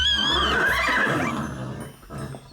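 A horse whinnies up close in a children's animal-sounds program, a loud, wavering neigh that rises and falls for about a second and then tapers off.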